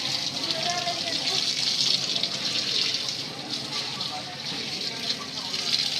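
Tap water runs in a steady, continuous gush at a temple where visitors wash their feet before entering, the flow close and even throughout.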